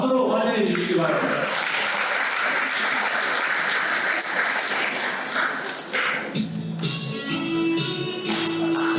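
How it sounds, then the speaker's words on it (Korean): An audience at a Seattle Korean community year-end event applauds to welcome a speaker, sustained loud clapping that fades toward the end as a voice and music begin. "여러분 박수로 환영해 주시기 바랍니다"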